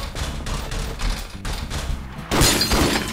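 Gunfire from a Five Nights at Freddy's mod in Garry's Mod, a dense burst of loud, closely spaced shots with heavy thuds, then a sharper, brighter blast near the end, with no talking.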